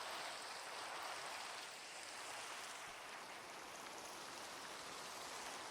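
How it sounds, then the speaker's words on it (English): Steady rain pattering down under a tree canopy, a soft continuous hiss of drops on leaves, even and moderately near, with no voices. "I kind of love the way the trees cover us from the rain, even just down here."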